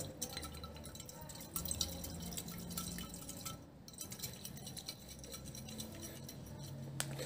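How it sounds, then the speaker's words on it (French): A bottle holding a small amount of hot water shaken by hand for a butane combustion experiment, soft sloshing and liquid patter with faint knocks, quiet and fairly close. "je vais agiter la bouteille"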